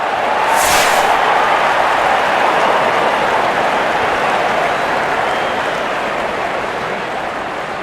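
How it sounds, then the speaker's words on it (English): A cricket stadium crowd at an India versus New Zealand T20 match cheers and roars continuously, a dense, loud wash of noise that holds steady throughout, with no distinct voices standing out. "The crowd is enjoying every bit of this action."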